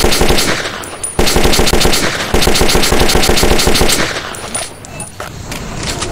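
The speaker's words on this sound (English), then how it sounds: "I'm not sure I like the gun sound." Rapid automatic gunfire from a weapon in the game Metro 2033, loud and close, a continuous rattling burst lasting several seconds that thins out toward the end amid game noise.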